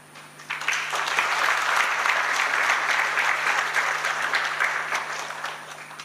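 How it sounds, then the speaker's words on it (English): Sustained applause from a forum audience at an international telecommunications experts' meeting, rising sharply after a quiet start and holding steady, dense and loud for several seconds before tapering slightly. "I would like to seek your views and approval with applause."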